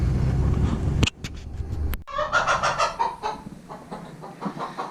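Agitated chickens cluck loudly and repeatedly inside a barn, with sharp bursts of squawking over steady background noise after an abrupt start.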